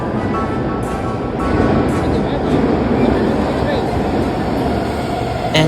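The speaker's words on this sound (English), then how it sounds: "As this train pulled in" A Washington metro train pulls into a station with a loud, continuous rumbling roar and hiss of wheels and motors that holds steady throughout, close by.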